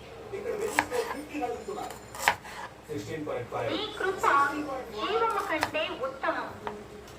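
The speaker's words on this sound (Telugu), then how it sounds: "ఆనియన్ అయితే కోసేసుకొని సన్న సన్నగా ముక్కలుగా అయితే తరుక్కుందామండి" A knife chops onions finely on a board for street-style onion samosa filling, with rapid uneven knocks, close and clear, under someone talking throughout.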